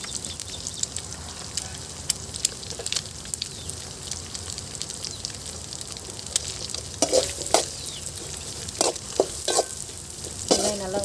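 Onions and egg sizzling together in a pan for home-made Indian street-style chicken noodles, with a steady fry hiss and louder bursts of stirring and scraping toward the end, no voices.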